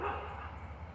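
Dogs bark in a brief, faint burst at a distance, a short yip-like woof over a low background hum.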